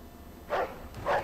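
Two short, muffled dog barks about half a second apart in the Mafia 2 video game, moderately loud over a low steady background hum.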